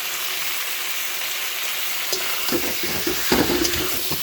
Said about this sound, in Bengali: মাংসটাও দিয়ে দিচ্ছি, একবারে কষিয়ে নেব